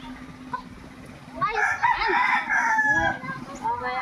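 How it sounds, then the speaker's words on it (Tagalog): A fighting rooster crows loudly nearby, one long drawn-out call over steady background noise. "Ito ang magandang lahi ng manok natin, Brett."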